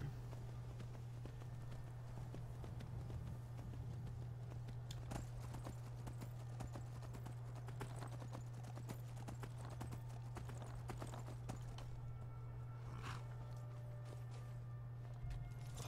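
Horse hooves clip-clopping in the video game Skyrim, a steady rhythmic clatter of hoofbeats over a constant low game hum, continuing throughout at moderate volume.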